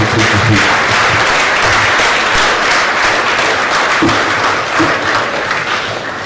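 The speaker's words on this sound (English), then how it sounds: "Let's clap for our registrar." A lecture audience at a university registry event claps for the registrar, a dense, loud, sustained burst of applause from a full room, with a few low voices mixed in.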